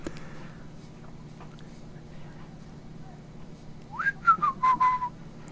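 A short, faint whistled tune, a few rising and falling notes like an innocent 'I didn't do anything' whistle, rises over low background murmur near the end.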